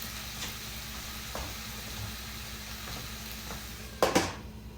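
Chicken browns in a covered pan, a steady low sizzle with a soft hum underneath, ending in a brief clatter of a lid or utensil against the pan.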